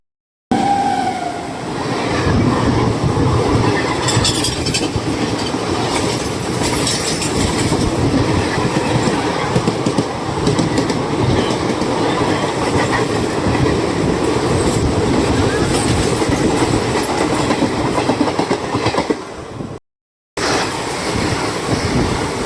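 Another train overtaking a moving Kerala Express sleeper-class train roars close by with rumbling rails and rhythmic clatter, continuous for a long stretch before a brief cut.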